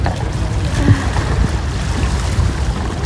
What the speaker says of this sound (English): Oh, I just love the sound of the waves.